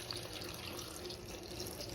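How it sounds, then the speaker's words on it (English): Tap water running steadily into a bowl of fresh strawberries and salt for soaking, a continuous close splashing pour with no voices. "And I'm also going to put water and let it soak in it for around 30 minutes."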